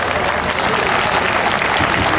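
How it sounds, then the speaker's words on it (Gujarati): Sustained clapping from a crowd at an education motivation speech session: dense, even applause from many hands, loud and continuous throughout, with no pauses. "give them a big round of applause"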